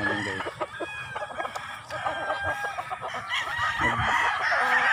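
Gamecocks in a chicken yard cluck and crow close by, loud and busy, with several overlapping birds and a long crow rising near the end.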